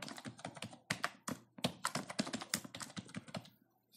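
A password typed on a computer keyboard: a brisk, irregular run of close, crisp key clicks for about three seconds, then tapering off to quiet, with no voices.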